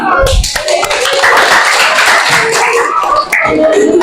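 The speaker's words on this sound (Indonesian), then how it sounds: "Tepuk tangan kita semua." Students in a classroom lesson clap together, loud close handclaps in a fast irregular patter with voices mixed in, pausing briefly near the end before resuming.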